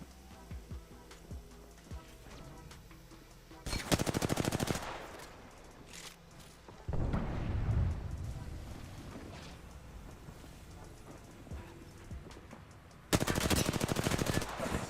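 Bursts of automatic gunfire crackle in the Apex Legends video game during a tournament fight, three dense loud volleys separated by quieter stretches of scattered distant shots and ambient rumble.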